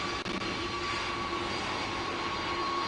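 Game jet engine of an Airbus A320 on landing in PTFS, a steady loud roar with a sustained whine, continuous throughout and without talk.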